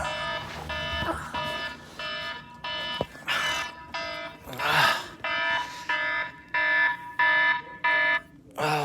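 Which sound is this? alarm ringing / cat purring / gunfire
alarm ringing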